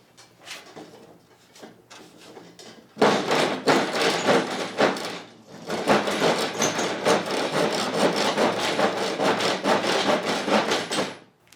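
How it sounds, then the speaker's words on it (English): A hand saw cuts through wood in steady back-and-forth rasping strokes, starting with a few tentative pulls and then sawing continuously, close and loud. "This is a horrible saw."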